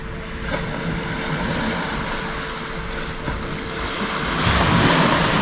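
Strong wind gusts at an outdoor camping spot, a continuous broadband rush that swells and buffets the microphone, growing louder toward the end with no voices.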